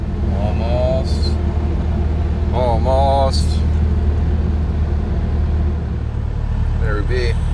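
A truck engine runs as the vehicle manoeuvres close to a shed, a steady, loud low rumble lasting throughout, with a brief spoken word and a few short higher tones over it.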